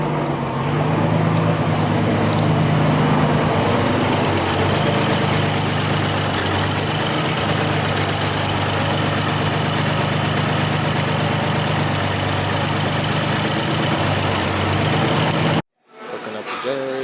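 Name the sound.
portable generator running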